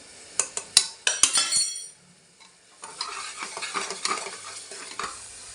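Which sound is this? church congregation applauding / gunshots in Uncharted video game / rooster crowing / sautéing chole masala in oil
sautéing chole masala in oil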